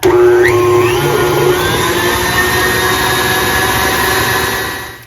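An electric mixer whirs steadily as it beats peppermint meringue, a loud continuous motor drone with a brief pitch rise just after it starts, running evenly before tapering off at the end.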